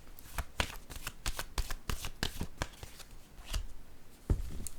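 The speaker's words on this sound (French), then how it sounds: "Je vais déposer une autre carte." Tarot cards handled and laid on a table, a rapid run of crisp papery slaps and flicks, close and fairly loud, with no voices.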